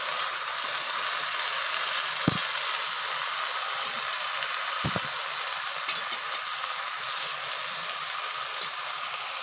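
Food frying in a pan, seasoned with salt, giving a steady, loud sizzle with a few sharp clicks of utensil contact along the way.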